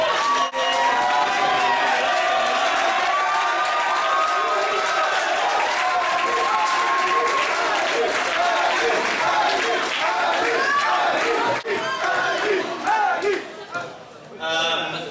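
At a student union election, an audience cheers, whoops and claps loudly and steadily for a candidate. The noise tapers off near the end as the crowd quiets.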